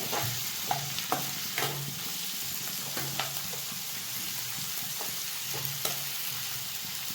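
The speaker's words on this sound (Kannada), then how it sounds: "ಇವಾಗ ಒಂದು ಸ್ವಲ್ಪ ಕ್ಲೀನಾಗೆ ಫ್ರೈ ಮಾಡೋಣ." An onion and tomato masala for butter chicken fries in a pan, a steady soft sizzle punctuated by regular spoon strikes and scrapes as it is stirred.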